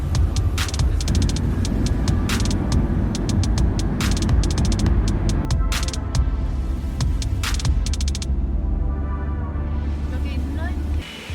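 A private van drives along a road in Costa Rica, its engine and tyres making a steady low rumble throughout, with scattered clicks and rattles inside the cabin and some talk mixed in.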